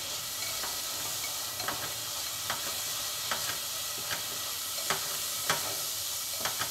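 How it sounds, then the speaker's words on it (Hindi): Spices frying in oil in a pan over a high gas flame make a steady close sizzle and hiss, with light scraping from stirring every second or so and no voices. "अब गैस की फ्लेम को हम हाई कर देंगे ताकि ये मसाले हमारे अच्छे से भुन जाए।"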